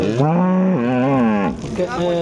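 An HF or Jersey cow at a cattle market in Punganur moos loudly and close by, one long drawn-out low call followed by a shorter bellow.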